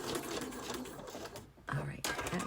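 A sewing machine stitching through paper for a three-pocket page, a steady close mechanical whirr of rapid needle strokes with a brief pause, running under soft background talk.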